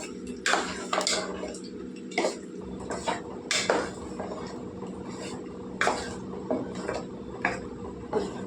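A spoon scrapes and knocks against a pot while mutton dalcha is stirred, producing irregular clinks and scrapes over a low steady hum, close and moderately loud, with no talking.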